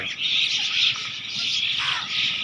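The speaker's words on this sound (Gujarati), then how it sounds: "અહીં ઘણા બધા મોર્નિંગ વાઇબ્સની અંદર આપ પક્ષીઓનું વિશાળ ટોળું જોઈ શકો છો," A large flock of birds calls in the morning, a dense, steady wash of high chirps and squawks with no pauses.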